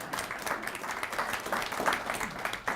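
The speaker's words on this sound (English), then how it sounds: "Clap for Rob." Audience applause at a groundbreaking celebration, moderately quiet and somewhat distant, a steady patter of many hands clapping without speech.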